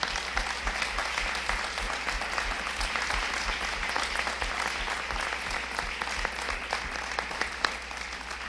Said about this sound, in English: allow us to give you one more round of applause to thank you